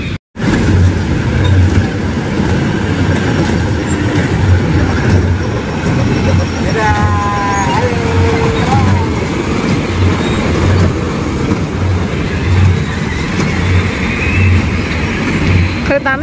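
A train rumbles steadily along the rails with a rhythmic low clatter, loud and continuous, while people talk over the noise.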